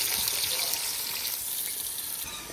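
Stone-ground masala paste crackles and sizzles in hot oil for tempering, a continuous bright hiss without any talking.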